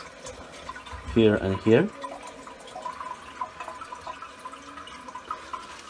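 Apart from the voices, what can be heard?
water refilling toilet tank after opening valve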